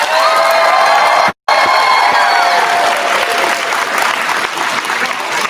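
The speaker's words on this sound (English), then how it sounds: "I need you guys to clap your hands and be super duper loud" A convention panel audience at a pop culture expo clapping hard and cheering loudly, with whoops and shouting voices over dense, sustained applause broken by one brief cut.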